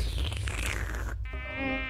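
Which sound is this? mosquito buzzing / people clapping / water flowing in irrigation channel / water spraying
mosquito buzzing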